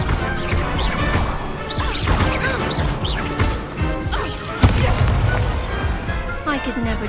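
Spell impacts crash and smash repeatedly during a wizard duel in the Hogwarts Legacy video game, loud, dense bursts layered with whooshing effects and shouted incantations from the characters.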